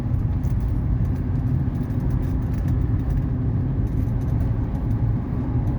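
A 1981 Mercedes 300SD cruises at highway speed in rush-hour traffic, with a steady, dense rumble of engine and road noise throughout and no talking.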